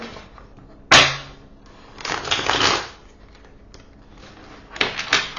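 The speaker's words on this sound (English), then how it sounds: "Can hardly shuffle, you guys." Close-up bursts of tarot cards being shuffled, three quick riffling rushes separated by quiet pauses.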